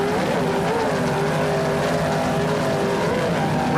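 A 37-foot Outer Limits racing powerboat's engines roar loudly and continuously at speed during a race, a dense, steady drone with a slight wavering pitch.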